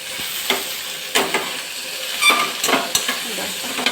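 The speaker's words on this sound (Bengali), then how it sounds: "মাছের এখানে ভেন্ডিগুলো ভেজে নিই" Okra frying in a pan: close, continuous sizzling with sharp bursts of spatter and occasional scraping stirs, no talking.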